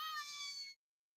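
A house cat gives a single short meow, close but faint, cutting off abruptly into silence.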